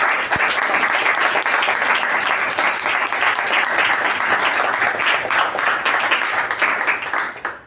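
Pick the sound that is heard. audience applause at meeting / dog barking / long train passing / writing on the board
audience applause at meeting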